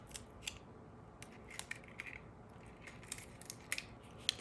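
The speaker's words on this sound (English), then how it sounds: "This is where I usually break out the scissors and start cutting away the excess pieces." Scissors snip through excess holographic film trimmed around a DIY candle craft, giving a quiet series of sharp, irregular close-up cuts with no talking.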